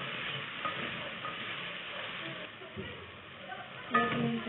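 Ginger garlic paste frying in a pan with onions for Lahori daal anda, a steady low sizzle with light stirring scrapes, close and continuous, brightening briefly near the end.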